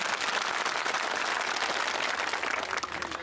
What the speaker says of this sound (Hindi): अगर सही है तो ताली हो जाओ।